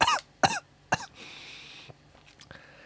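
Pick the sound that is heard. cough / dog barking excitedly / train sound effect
cough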